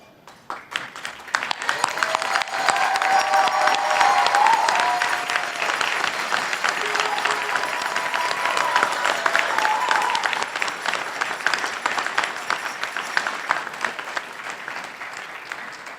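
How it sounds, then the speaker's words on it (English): Graduates at a university convocation ceremony stand and break into sustained, loud applause that fills a large hall, steady for many seconds with scattered cheers. "now it is your turn to honor them with your cheers"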